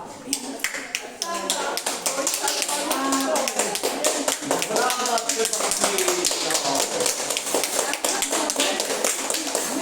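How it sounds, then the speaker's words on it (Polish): Audience at a village dance party clapping for a competing dance couple, brisk dense clapping mixed with voices and chatter throughout, fairly close and loud. "Brawa!"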